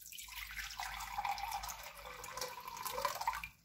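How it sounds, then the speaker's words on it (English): Water pours steadily into a pot for pumpkin and vegetable soup, a continuous splashing stream that runs for a few seconds close by and then trails off. "add the water in here"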